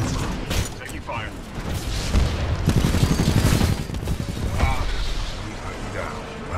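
Dense gunfire and booming blasts from a Titanfall 2 battle against a Militia Titan, continuous and loud with bursts and impacts throughout, under a voice.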